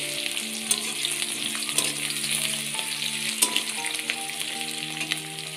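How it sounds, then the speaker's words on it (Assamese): Onion, garlic and green chillies fry in a pan for a dal recipe, a steady loud sizzle with occasional stirring clinks and scrapes, no talking. "এইখিনি ধুনীয়াকৈ ভাজি আছোঁ, কালাৰটো চেঞ্জ হ'ল"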